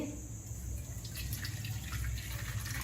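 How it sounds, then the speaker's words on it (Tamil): Hot water pours into a bowl with salt, ready for fried paneer, making a steady, low rushing splash that runs without break at moderate, even loudness. "இதை ஒரு பவுலில் உப்பு போட்டு வெந்நீர் ஊற்றி"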